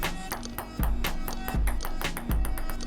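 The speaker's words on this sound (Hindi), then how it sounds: "इसी तरह पिंग पोंग बॉल और टेबल के कोलिजन में भी साउंड प्रोड्यूस हो रहा है" A ping pong ball bounces repeatedly on a table, producing a quick, steady series of light, crisp taps close by with a faint low hum underneath.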